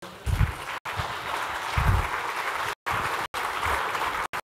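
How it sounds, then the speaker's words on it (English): A round of applause from the audience at a real estate investing event on raising capital, steady close clapping with a few heavier low thumps, broken by brief abrupt dropouts. "Big round of applause, folks."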